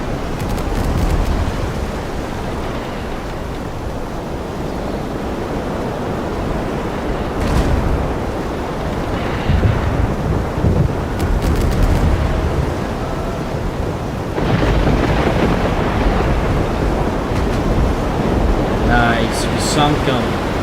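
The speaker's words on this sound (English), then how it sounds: "Starting to get stormy out." Stormy sea weather in the World of Sea Battle naval video game: steady roaring waves and wind noise throughout, loud and continuous, with brief surges and faint clicks near the end.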